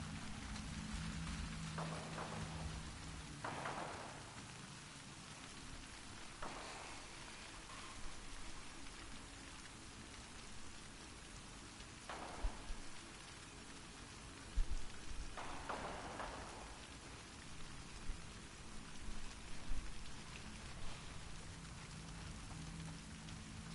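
A heavy rainstorm patters steadily in The Last of Us Part II, a constant wash of falling water broken now and then by brief louder gusts or distant rumbles.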